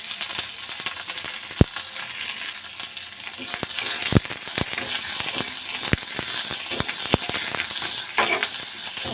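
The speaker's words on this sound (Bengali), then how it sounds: "কড়াই তেল গরম হয়ে গেছে আর এই যে পেঁয়াজটা আমি কেটে রেখেছি আর কাঁচা লঙ্কা ভেজে নেব" Sliced onion and green chilies frying in hot oil in a wok, a constant close sizzle and hiss punctuated by sharp spatula clacks and scrapes, no voices.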